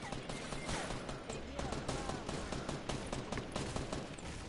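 Video game gunfire, a steady run of rapid shots and bursts with other game sounds throughout, fairly loud and continuous.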